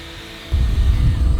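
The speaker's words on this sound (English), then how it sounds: "oh yeah, you're drilling just fine" A power drill with a freshly sharpened bit drills a hole, a low grinding drone that steps up sharply and stays loud and close.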